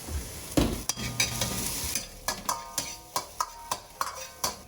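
Spring onion and ginger stir-fried over high heat in a touch of oil: a rhythmic run of sharp spatula strikes and scrapes, close and loud, over a constant sizzle.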